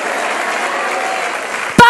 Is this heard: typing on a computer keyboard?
no